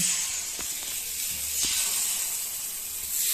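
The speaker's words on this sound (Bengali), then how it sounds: "এটা করা ভালো হয় খোলা পিঠে এর মধ্যে দিয়ে দিচ্ছি" Khola pitha batter sizzles in an oiled clay pan, a steady bright frying hiss held throughout, close and even, with a few faint clicks and knocks underneath.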